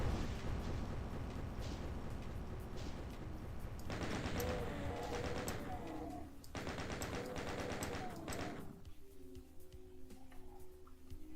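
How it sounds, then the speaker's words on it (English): In the video game DOOM, a shotgun-wielding enemy and zombies exchange fire, making dense, rapid bursts of loud gunshots broken by short pauses, with the last few seconds quieter. "I see that shotgun guy and the zombie guys were shooting each other"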